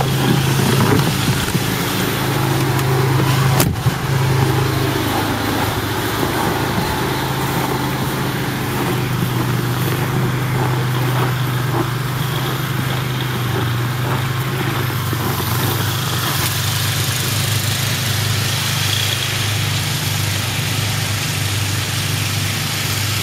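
A snowblower engine runs steadily in minus 24 degree cold in Timmins, Ontario, a continuous low mechanical drone at constant loudness with one brief sharp click early on.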